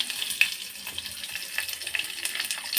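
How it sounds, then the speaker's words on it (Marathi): Curry leaves and spices, including cardamom, crackle in hot oil for a spiced rice dish cooked in a pressure cooker. The steady, close sizzle carries small popping bursts throughout, with no talking. "कढीपत्त्याची चार पाच पानं तोडून टाकायची"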